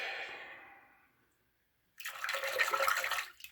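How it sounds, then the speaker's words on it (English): Water runs over a Wilkinson Sword Classic safety razor: a soft trickle fades out, then a brief pause, then a stronger splashing rinse under the tap. "rinse that out a little bit."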